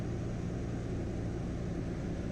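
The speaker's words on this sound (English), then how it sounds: "One notch of flaps, we're within the white arc." A small training airplane in flight with its flaps extending, heard as a constant loud engine drone inside the cockpit with no distinct change audible.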